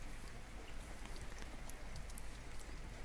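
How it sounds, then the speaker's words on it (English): Video game rain as a steady, dense patter of raindrops on surfaces, a faint, even wash with no voices. "There is a lot of rain."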